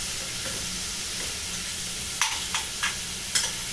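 Leftover rice with carrots frying in a pan with a steady close sizzle, while a spoon scrapes and stirs in a few sharp strokes near the end.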